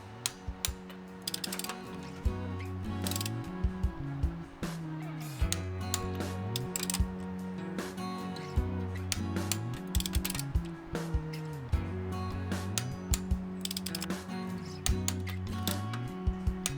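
A torque wrench ratchets repeatedly on axle bolts being tightened to 25 foot-pounds, a rhythmic run of close mechanical clicks over a steady grinding background.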